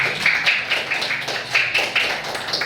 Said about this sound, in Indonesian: Tepuk tangan dulu untuk kelompok bunga tulip.